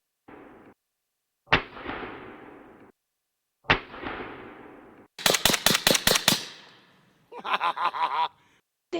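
Suppressed bullpup rifle gunshots ring out as sharp, close cracks, first a few single shots with decaying tails, then a rapid string of about seven shots, followed by a quicker burst near the end.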